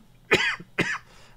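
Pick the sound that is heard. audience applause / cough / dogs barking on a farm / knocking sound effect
cough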